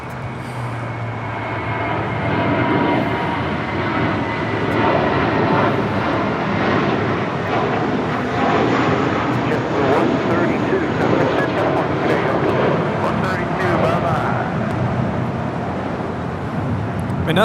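A 15-year-old JetBlue Airbus A320 departing Los Angeles International Airport, its loud, steady jet engine roar sustained throughout at an airport, with a voice talking over it at times.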